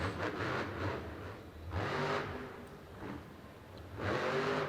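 A monster truck engine at a Monster Jam event in UBS Arena, Elmont, NY, revs in loud, swelling surges, rising and falling about three times over continuous arena rumble.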